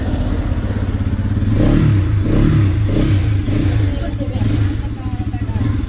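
A Yezdi motorcycle engine idles and revs steadily at close range as a ride begins, with a throbbing low rumble that swells and eases, while people talk faintly in the background.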